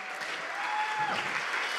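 A congregation at an international apostolic church gathering applauds with steady, dense clapping from a large crowd, a faint voice briefly audible over it.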